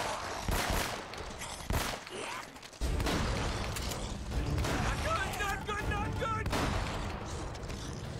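Gunfire in the video game Uncharted: Nathan Drake Collection, bursts of shots and rattling automatic fire mixed with clanking mechanical sounds and game noise, fairly loud and continuous, with voices talking over it.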